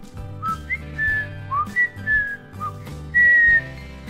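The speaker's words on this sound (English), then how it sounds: "It allows me to whistle." A person whistles a few short rising and falling notes over light background music, with the loudest, longest note near the end.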